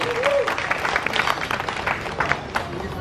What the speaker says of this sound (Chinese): 再一次掌声鼓励